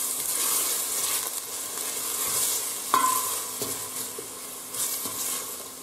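Chopped onion and garlic sautéing in a pan with oil, a steady soft sizzle with occasional clinks and scrapes of a utensil stirring, close and continuous with no talking.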